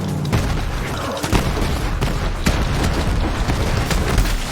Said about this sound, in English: chuck more grenades